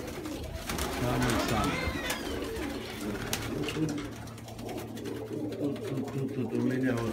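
Pigeons coo in a low, repeated rumble throughout, close by, while a person talks over them at length.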